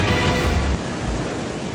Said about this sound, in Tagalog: Kulay putik na baha ang rumagasa sa Basco, Batanes